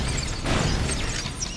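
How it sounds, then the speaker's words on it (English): Dense rumbling blasts and crashing bursts roll together in a continuous loud wash of explosions in the game Halo, with no talking. "There's a lot of explosions going on right now."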